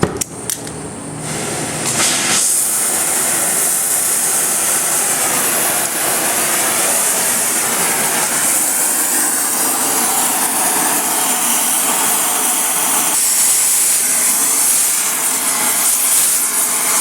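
A marked section of a heavy-duty wrought iron railing post is heated before twisting. A loud, steady roaring hiss carries on almost unbroken for the whole stretch after a brief, uneven start.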